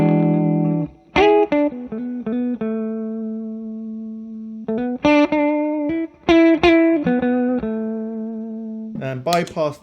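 An electric guitar plays through effect pedals into a Two Rock Classic Reverb amp, with crisp picked notes and chords, some ringing out in sustained tones and others cut short, and gaps of silence between phrases.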